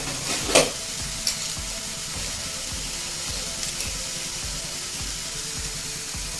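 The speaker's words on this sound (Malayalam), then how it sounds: "കരുവേപ്പിൻ്റെ ഇല ഇട്ട് നാളികേരമിട്ട് ഒന്ന് വഴറ്റി കൊടുക്കണം." Grated coconut and curry leaves sautéing in a pan for mackerel thoran, a constant crackling sizzle with a regular rhythm of spatula scrapes and a few louder clatters near the start.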